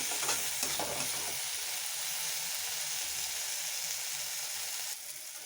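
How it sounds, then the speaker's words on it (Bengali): Ground cumin, turmeric, chilli powder and salt frying in oil in a pan for a fish and tomato chorchori, a steady close hiss and sizzle with light stirring scrapes near the start, dipping slightly at the end. "ভালো করে মশলাটা কষে নেব।"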